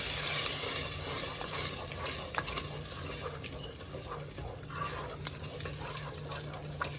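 Texas red chili is stirred in a pot, a close, continuous wet scraping and sloshing with faint sizzling underneath and small clicks of the spoon against the pot.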